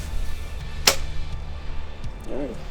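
An arrow strikes a foam archery target on an outdoor 3D archery course, a single sharp thwack near the start, followed by quiet outdoor ambience and a brief faint voice toward the end.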